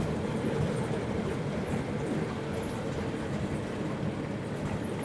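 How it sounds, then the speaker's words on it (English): A train rolls by close at hand at a beach resort in the Philippines, a steady rumbling roar with faint rhythmic clatter of wheels on track that holds for several seconds. "Oh wow, you got a train too"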